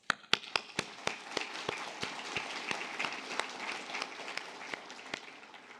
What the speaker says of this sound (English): I would like you to give each other a huge round of applause